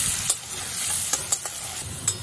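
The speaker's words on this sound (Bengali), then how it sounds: "অল্প লবণ আর 1 পিঞ্চ হলুদ দিয়ে আমি আলুটা খুব ভালো করে ভেজে নেব।" Two medium potatoes cut into cubes frying in oil with salt and a pinch of turmeric, a continuous loud sizzle broken by several sharp clicks and scrapes of stirring.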